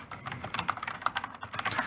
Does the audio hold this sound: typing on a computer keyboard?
yes